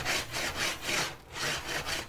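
Pumpkin, sunflower and sesame seeds stirred as they toast in a skillet on an induction cooktop, a steady rhythmic scraping and rustling in even strokes, close and moderately loud, with no speech.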